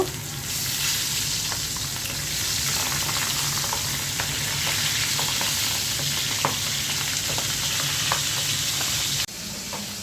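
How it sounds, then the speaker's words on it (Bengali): Fish fries in hot oil with a dense, steady sizzle and scattered pops and spatters, loud and close, ending with a brief drop. "মাছগুলো একটু ফুটছে"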